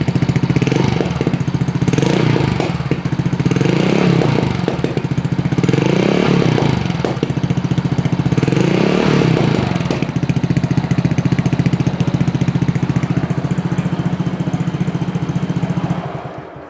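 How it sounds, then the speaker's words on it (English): A Honda Dax 125 motorcycle fitted with a Yoshimura Cyclone exhaust idles steadily, with a series of short, light throttle blips rising and falling over the loud, close engine note. "Let's give it a few light revs."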